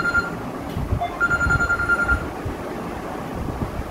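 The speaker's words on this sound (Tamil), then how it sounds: "எல்லா நேரம் கட்ட நேரத்தில் ஃபோன் அடிக்கிறானுங்க" A telephone rings in short repeated electronic trills, faint and somewhat distant, over a rushing background noise with no talking.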